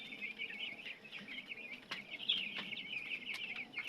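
A flock of seven-day-old broiler chicks peeps steadily and continuously in a poultry shed, a dense, shrill chorus at moderate distance with no talk.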